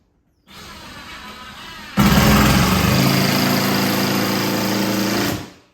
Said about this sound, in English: now I'm just countersinking some holes here for some 2-inch screws